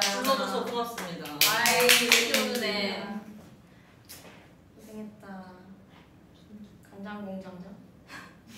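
A short burst of hand clapping sounds near the start, over chatter and laughter, during a Korean pop group's live stream. Talk carries on after the applause fades.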